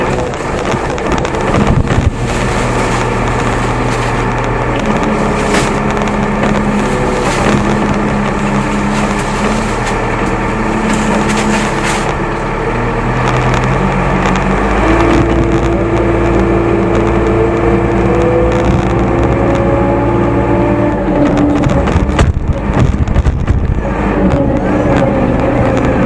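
A JCB machine works in a mango plantation with its engine running loud and continuous, pitch rising and falling as it labors, mixed with wind buffeting on the microphone.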